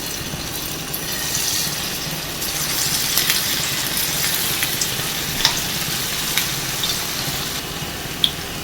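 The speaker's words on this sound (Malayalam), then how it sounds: "നമുക്ക് ഓരോന്നായിട്ട് എണ്ണയിലേക്ക് ഇട്ട് കൊടുക്കാം" Battered cauliflower florets for Gobi Manchurian frying in hot refined oil over a high flame, a continuous close sizzle with a few sharp crackles and pops, no talking.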